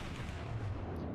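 Heavy naval guns boom in World of Warships as a converted freighter's broadside goes out, a deep continuous low rumble of big-gun fire filling the short moment, loud and close.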